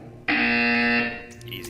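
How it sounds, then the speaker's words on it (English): A loud, sustained electronic buzzer from the Portal 2 video game sounds close and steady for about a second, then trails off into quieter background tones. "You will hear a buzzer"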